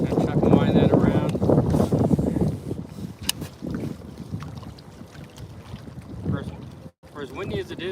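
Strong gusting wind buffets the microphone while bass fishing from a boat, with loud rumbling bursts early on and someone talking over the blustery noise.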